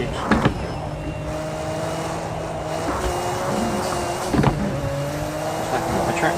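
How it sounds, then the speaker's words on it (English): Nissan Skyline GT-R R34 racing at Donington Park in Project Cars 2, steady engine drone with rising and falling revs and two brief blips from clutch kicks, no speech. "Good old clutch kick."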